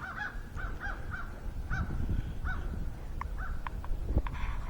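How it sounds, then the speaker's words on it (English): Crows arriving for food near a home workspace, repeated harsh caws in an irregular series, moderately near, over a low background rumble with a few sharp clicks later. "My crows are coming for their lunch."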